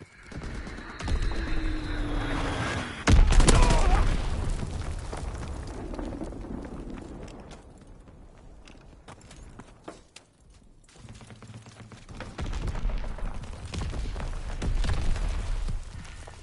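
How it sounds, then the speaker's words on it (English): Enemy bombs explode in a Call of Duty WW2 hardcore team deathmatch: a heavy close blast lands early, followed by rumbling debris and a later swell of distant booms and clatter. "Enemy bomb incoming."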